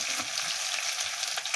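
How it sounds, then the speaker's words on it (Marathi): Mustard seeds, cumin, crushed ginger and garlic frying in hot oil for a tempering, a steady close hiss and sizzle with faint crackle, no voices. "मोहरी आणि जिरा थोडा थोडा असा तडतडून घ्यायचा"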